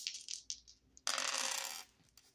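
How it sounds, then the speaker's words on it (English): Dice rolled for a tarot reading: a few light clicks and taps, then a dense rattling burst about a second long as they tumble and settle, close and fairly quiet. "rolling the dice to see what I need to shuffle the deck to"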